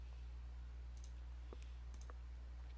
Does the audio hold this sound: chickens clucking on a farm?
no